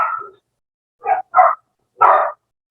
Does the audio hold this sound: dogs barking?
yes